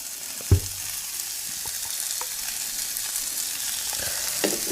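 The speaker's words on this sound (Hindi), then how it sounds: "मसालों को हम अच्छे से भूनेंगे ताकि मसाले का कच्चापन निकल जाए" Masala spices sautéing in a pan over a medium flame, a steady close sizzle with a sharp knock of a spoon against the pan and a few soft stirring scrapes.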